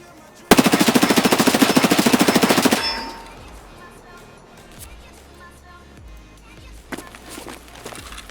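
In the Escape From Tarkov video game, an MP7 submachine gun fires one sustained rapid automatic burst of about two seconds, loud and close, followed by a few quieter thuds and footsteps, with a voice in the background.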